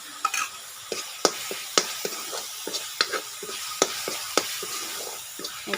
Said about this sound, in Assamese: এইখিনি আমি ভাজি ল'ম মছলাখিনি